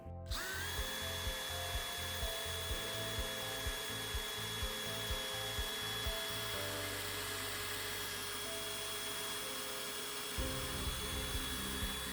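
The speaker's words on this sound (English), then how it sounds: "When I get to that piece of tape, I'll stop drilling." A power drill bores steadily into wood, a close, continuous whine with grinding and rubbing as the bit cuts in, the pitch shifting near the end.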